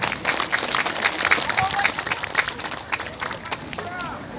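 Crowd at an outdoor Hindu religious talk in Serang, Banten clapping together, a steady dense patter of many hands mixed with crowd murmur and a few voices.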